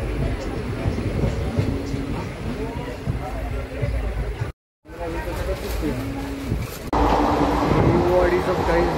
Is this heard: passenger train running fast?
yes